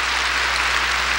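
Sustained, dense applause from a church congregation during a Sunday worship service, a steady wash of clapping at close range with no pauses and no talk over it.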